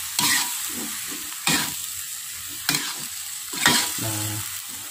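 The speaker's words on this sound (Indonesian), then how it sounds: "Oke, ini kita aduk rata." Cassava leaves being stirred through a spice paste frying in a pan, a steady close sizzle broken by four sharp scraping strokes of the spoon, each about a second apart.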